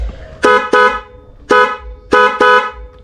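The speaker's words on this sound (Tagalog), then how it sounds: "napakalakas na busina mga boss" Loud aftermarket dual car horn, newly installed with a relay, honking in four short blasts, two quick ones, then one, then another quick pair, close and piercing.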